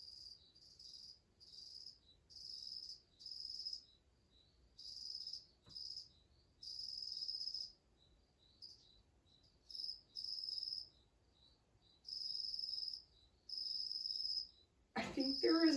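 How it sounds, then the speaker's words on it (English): Cricket chirping indoors near stored bags, rhythmic bursts of high trilling repeated steadily with short gaps, faint and alone, until a sudden louder noise at the very end. "I think there is a cricket up there with my bags."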